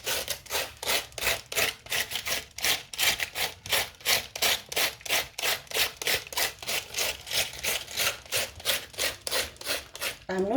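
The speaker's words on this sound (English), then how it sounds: "So what I'm doing is cutting up my stuffings as my dough is resting" Knife chopping stuffing vegetables for cabbage wraps on a board, a fast, steady rhythm of crisp close cuts repeating evenly throughout.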